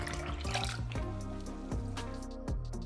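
Whole milk pours into a custard base of egg yolks and caster sugar for ice cream, a close, continuous liquid stream with a rising filling tone and small splashes, heard alone.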